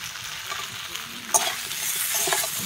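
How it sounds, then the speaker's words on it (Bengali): Cut tomatoes fry in a pan with drumsticks and potatoes, a steady soft sizzle with a sharp clink partway through and the sizzling growing louder afterward. "টমেটোটাকে ভালো করে ভেজে নেব"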